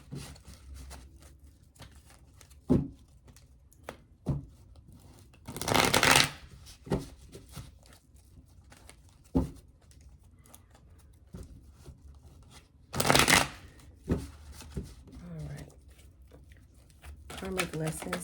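Tarot cards being shuffled close by in several distinct riffling bursts separated by pauses, with faint soft handling sounds and light rustling between them.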